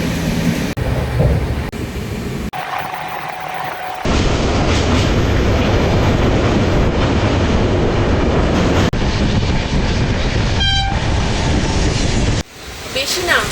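An Indian Railways train on the Jagdalpur to Howrah run approaching Titlagarh station, with a loud, continuous rumble and rattle of carriages that shifts abruptly between sections and carries a brief high whine near the end.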